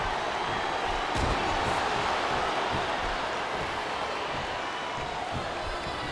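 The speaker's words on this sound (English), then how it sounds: "It sounds like this capacity crowd has something on their minds, Taz." A capacity arena crowd roars steadily in the wrestling video game WWE SmackDown vs. Raw 2007 during a Ric Flair vs. Mr. Perfect match, a dense, loud, unbroken wall of crowd noise with no clear breaks.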